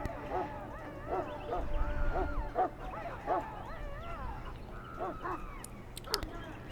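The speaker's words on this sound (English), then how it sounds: "I fear your hound has the kitchens in uproar once again, and is threatening to leave." A Mabari war hound in Dragon Age: Origins barks and yips repeatedly in short bursts with some whimpering, fairly close, while a voice speaks softly underneath.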